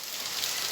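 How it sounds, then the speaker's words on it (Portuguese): Heavy rain pours steadily on wet surfaces near a fast-flowing current, a dense continuous hiss with no break, fairly loud and close. "Nunca vi tanta chuva aqui."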